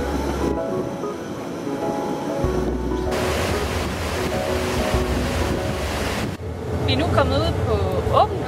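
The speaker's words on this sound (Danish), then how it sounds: "Grønlandske flag, det blafrer selvfølgelig her i baggrunden." Wind-whipped flag flapping on the top deck at the stern of an Arctic Umiaq Line ferry sailing from Nuuk to Qaqortoq, a steady roar of wind and sea throughout with fluttering bursts near the end.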